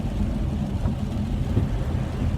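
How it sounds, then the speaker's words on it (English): Steady rain pours down in a constant low hiss and rumble, dense and even throughout. "the rain looks like it's really set in now"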